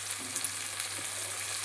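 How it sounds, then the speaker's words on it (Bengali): Onions fry in a pan with capsicum and tomato, giving a steady soft sizzle with faint stirring, close and continuous with no talking. "পেঁয়াজগুলোকে আগে একটু ভেজে নেব।"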